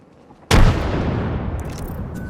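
A frag grenade in Apex Legends goes off with a single sudden, loud blast that rolls into a long, noisy decaying rumble.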